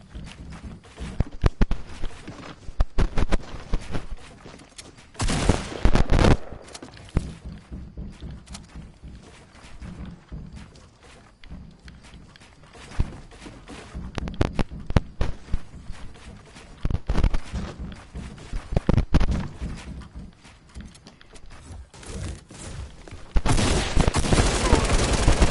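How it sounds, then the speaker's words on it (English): Rifle gunshots ring out as several sharp, loud bursts spread through a long stretch of quieter background noise, with a dense cluster near the end. "A rifle."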